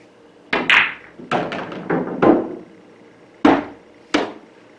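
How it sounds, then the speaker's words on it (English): On a pool table during a one-pocket break, the cue ball strikes the 8 ball with heavy right side spin and comes off the side rail. Several sharp, close clacks and thuds land at irregular intervals with no talk. "The solution lies in spinning off the 8 ball with a lot of right hand English and bringing the cue ball off the side rail"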